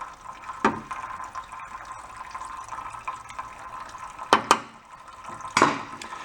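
Water splashes and gurgles steadily as it drains out of a portable generator, a continuous close trickle with a few sharper splashes standing out.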